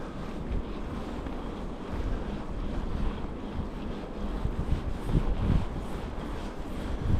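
Headwind buffeting a microphone on a mountain bike ride uphill, a steady low roaring rush with gusty swells throughout and no talk.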